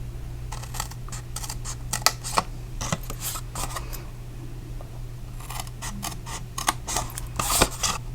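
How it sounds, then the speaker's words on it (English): Scissors snip through the bottom of a cardboard gift box in a series of short, crisp cuts, quiet and close, with brief pauses between bursts of clicks. "we're going to make our cuts. And this is going to be the bottom of the box"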